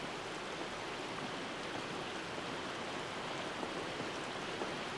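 Rain sound effect from the Loading dub of the anime Cardcaptor Sakura: steady, even hiss of falling rain at moderate volume, unbroken and with no voices.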